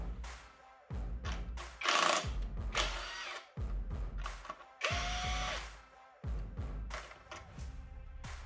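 A power tool, likely a ratchet or drill, unfastening the fuel filter housing nuts on a Citroën C5 X7 2.0 HDi engine during a teardown, several close, loud whirring bursts separated by short pauses and clanks.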